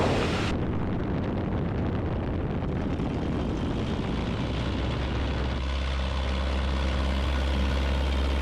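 Luscombe light airplane on landing, its small low-horsepower propeller engine droning steadily at low power with wind rushing past, loud and continuous, the tone settling lower toward the end.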